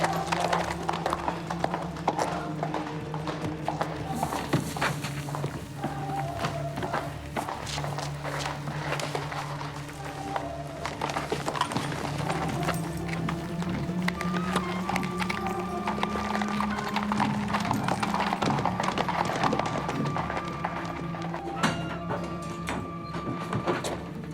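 Three horses clop along in a steady rhythm of hooves, close and continuous, with wheels or tack rattling and some low voices and movement underneath.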